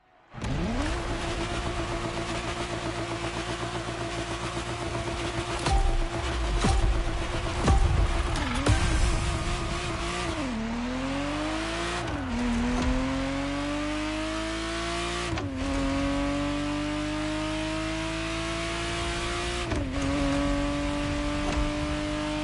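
Ferrari Testarossa engine in The Crew Motorfest video game, loud and close, accelerating hard through a series of gear changes with pitch climbing and dropping at each shift over about twenty seconds.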